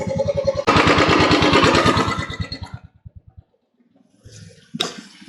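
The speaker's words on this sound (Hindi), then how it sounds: "जो बाइक है वो फंस गया पानी में" A Royal Enfield motorcycle stuck in a water crossing on a night ride in the Zanskar valley: the engine chugs loudly with rapid rhythmic thumps and churning water, then cuts out, followed by faint splashing and a closing sharp burst.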